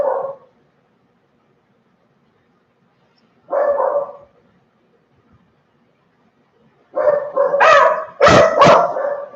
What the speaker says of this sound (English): Sorry about my dogs are barking.